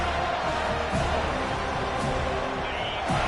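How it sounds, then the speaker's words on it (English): A dense, roaring football stadium crowd at a Florida versus FSU game keeps up a continuous wall of noise, loud and unbroken throughout. "This crowd bringing the energy and noise early."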